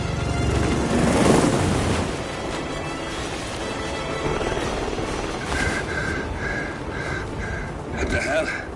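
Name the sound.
helicopter taking off in Hitman video game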